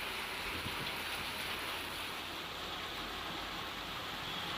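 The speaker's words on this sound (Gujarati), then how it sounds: "સમઢિયાળામાં પણ વરસાદ વરસી રહ્યો છે" Continuous rain hisses evenly throughout over a village in Gujarat, a steady wash of falling water with no talking.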